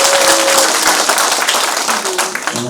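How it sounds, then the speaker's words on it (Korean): An audience at a talk concert for North Korean defector residents claps to welcome a guest, a loud, dense spell of applause with some voices and crowd noise mixed in. "박수로 환영해 주시기 바라겠습니다"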